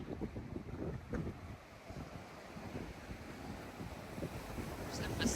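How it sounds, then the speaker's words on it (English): Pacific Ocean waves wash and hiss continuously on a sunny shore, faint and steady under heavy wind buffeting the microphone, with no one speaking. "Can you hear the water?"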